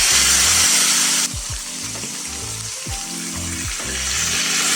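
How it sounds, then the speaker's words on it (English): Fish fries in hot oil for a Filipino sarciadong isda, a loud crackling sizzle that starts strong, drops partway through, then builds again, with rhythmic mechanical clatter and tonal hum mixed in. "let's fry the other side for 2 minutes"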